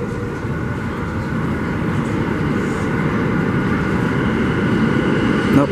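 A low rumbling roar of a Q subway train arriving at 86 St station on Second Avenue, building slowly and steadily louder, with a faint squeal near the end and no voices.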